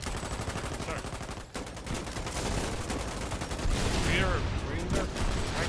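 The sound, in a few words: gunfire in the Foxhole video game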